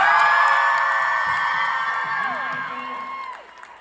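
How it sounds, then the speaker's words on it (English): A convention panel crowd in Burbank cheers and whoops, with high excited shouts and some applause. The sound is loud at first and fades gradually over a few seconds. "A big round of applause for Jensen and Misha."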